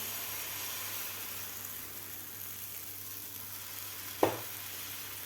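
Besan and egg batter goes into a hot pan and fries with a steady soft sizzle throughout, broken near the end by one brief sharp clack.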